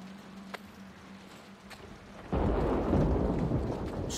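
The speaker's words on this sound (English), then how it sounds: "Thundering." Thunder in The Last of Us Part II comes in as a sudden heavy rumbling crash after a quiet stretch with a low hum, then rolls on loudly and roughly with rain-like hiss until the end.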